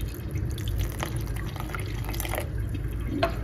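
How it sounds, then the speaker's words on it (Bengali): Plain water poured into a milk pudding mixture in a bowl, heard as light dripping and splashing with soft scattered drops over a low background hum, fairly close and without speech. "তো এখানে হলো আমি একটু পানি দিয়ে দেব"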